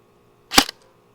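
A short budget CQB airsoft gun fires a single sharp, close crack that ends almost instantly.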